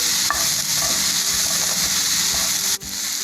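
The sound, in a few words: sauteing coconut pieces in a pan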